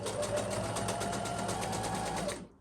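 A domestic sewing machine stitching through multiple layers of lace fabric for panties, a fast even mechanical whirring with a steady rhythmic needle patter, close and continuous before stopping abruptly at the end.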